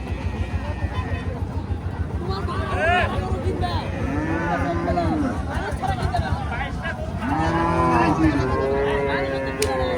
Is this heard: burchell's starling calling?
no